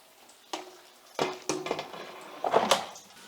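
An air fryer basket of browning sausages is slid back into the fryer: a few close, clattering metallic knocks and scrapes in separate bursts, with no talking.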